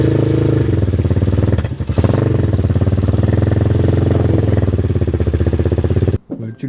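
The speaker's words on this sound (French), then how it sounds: "Je pense qu'il faut être comme ça pour démarrer cette moto." A new motorcycle engine fires up and runs loudly nearby with a rough, pulsing idle, dipping briefly about two seconds in before settling back, then cutting out near the end.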